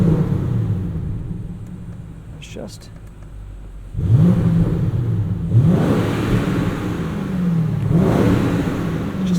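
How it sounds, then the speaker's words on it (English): Exhaust burble from a 2020 BMW Alpina B7 xDrive in sport mode on a night drive, a low rumbling engine note swelling and rising in several pulses after a quieter stretch, with someone talking briefly over it. "can hear the exhaust open a little bit when you put it into sport mode."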